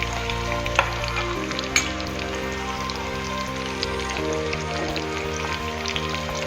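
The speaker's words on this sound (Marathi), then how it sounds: "हे चांगलं कडक तेलातच फ्राय करायचं" Chicken 65 deep-frying in very hot oil, a steady crackling sizzle like light rain with occasional sharper pops, heard over a constant low hum.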